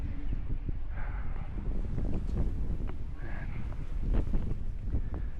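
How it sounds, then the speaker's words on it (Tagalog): Strong wind buffets the microphone on a hilltop summit, a steady broadband roar with gusty swells throughout, loud and close, with no voices. "Ang lakas ng hangin dito."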